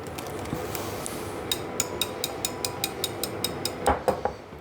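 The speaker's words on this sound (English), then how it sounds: "Whisk it till all the lumps are taken out." A whisk beating beer batter in a bowl for fish and chips, a quick run of evenly spaced light clinks and taps against the bowl, close up with no talk.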